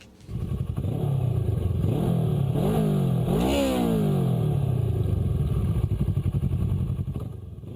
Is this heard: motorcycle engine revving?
yes